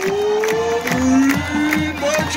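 A crowd cheers and shouts at a Grove City College football game as the Wolverine Marching Band is introduced, with a steady roar of voices under an announcer's amplified speech.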